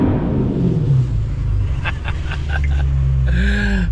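A car with raised bullet mufflers rumbles loud and close through a deep, steady exhaust drone that holds without letup, recorded from inside the car in a car wash.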